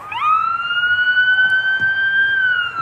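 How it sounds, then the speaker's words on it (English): A 2018 Ford Interceptor police car siren runs a steady low bass-tone wail, loud and close, holding one sustained pitch that rises slightly at the start and dips at the end, with faint road rumble underneath. "we're on whale here. On the bass tone siren"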